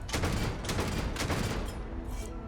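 A weapon in Crossout fires a rapid burst of repeated shots, a dense rattling volley that fades slightly toward the end, with no voices.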